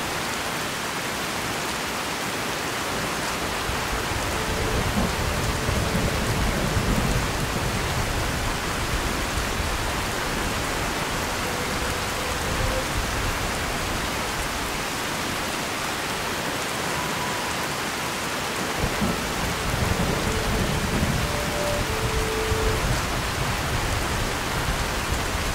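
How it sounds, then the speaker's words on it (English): Rain falls on a moon in the video game Space Engineers, a dense, continuous hiss of rainfall that swells slightly at times, heard alone without voices. "Stupid rain. Why the hell is it even raining on a moon?"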